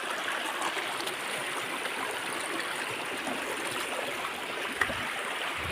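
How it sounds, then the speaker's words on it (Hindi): Stream water rushing steadily down a large ravine near a village, a continuous broadband wash of flowing water holding level throughout with one brief knock near the end. "बड़ा गधेरा है और यहाँ पर आता है पानी।"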